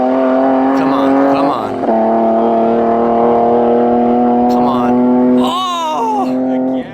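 A BMW E30 with a swapped-in M3 engine launches hard down a drag strip, its loud engine holding a steady drone, then dipping and rising again through gear changes and wheel hop, close and dominant.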